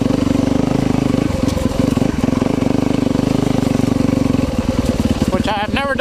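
A Husqvarna-style FX enduro dirt bike engine running nearby with a loud, steady, rapid thumping idle, while someone talks over it and the engine revs shift near the end.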